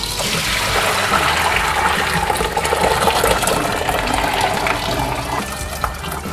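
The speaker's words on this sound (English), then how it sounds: "Now we're going to drain it and rinse it." Running water pours steadily as cooked colored tapioca boba pearls are drained and rinsed, a continuous close splashing rush that stays fairly loud and even throughout.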